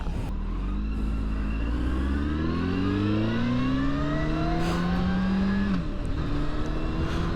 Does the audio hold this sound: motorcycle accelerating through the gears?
yes